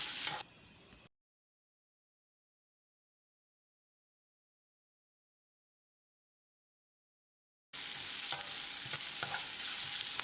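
Steady sizzling and stirring of garlic, ginger and chili in a hot pan, a short burst followed by a long silence, then the frying resumes loudly.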